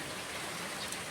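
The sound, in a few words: moderate rain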